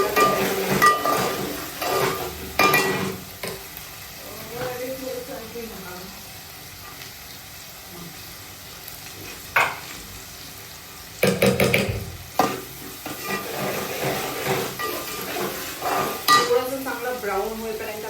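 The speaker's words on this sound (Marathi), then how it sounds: "ब्राऊन होईपर्यंत आपल्याला कांदा परतून घ्यायचा आहे." Chopped onion sautés in a pan for pav bhaji, a spoon stirring and scraping amid a light sizzle, with scattered clanks of the utensil against the pan while someone talks intermittently.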